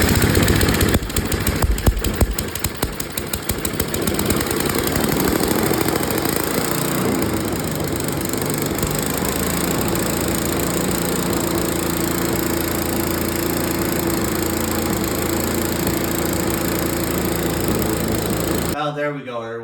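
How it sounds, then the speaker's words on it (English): A small snowblower engine with a freshly repaired leaking carburetor catches on the first pull and settles into a loud, steady, close idle that runs continuously for nearly twenty seconds before cutting off abruptly. "So now we have our leaking carburetor is finally fixed. So no more issues with that. It fires up great. It fires up first pull."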